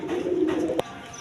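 A single satin pigeon coos softly at close range, with a low rolling call that stops abruptly after a short sharp knock.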